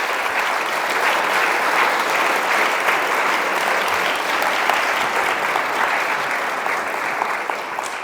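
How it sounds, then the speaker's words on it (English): A conference audience applauds its panel speakers, a dense, steady roar of clapping hands held at an even level throughout, with no voices over it. "please give an applause to our speakers."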